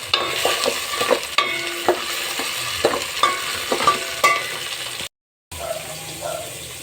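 Tomato and chili sautéing in a pan for dining-ding, with a steady sizzle and repeated clinks and scrapes of a stirring spoon, fairly close; a short dropout of silence near the end.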